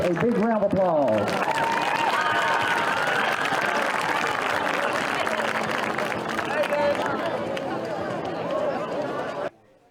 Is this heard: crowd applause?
yes